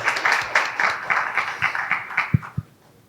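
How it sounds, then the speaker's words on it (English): An audience at a panel discussion on diversity, equity and inclusion in flexible workspaces gives brief, scattered applause that thins out to a few last claps within about three seconds. "can we have a big round of applause for our entire panel?"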